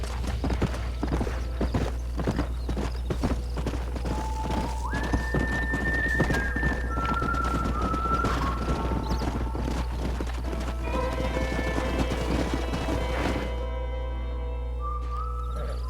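Horses in the Red Dead Redemption game trot with a steady, busy clip-clop of hooves, while whinnies and neighs rise over the hoofbeats several times before the sound cuts off near the end.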